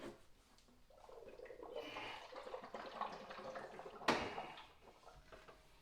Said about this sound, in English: the water is now going to run down into the brewing dock and sanitize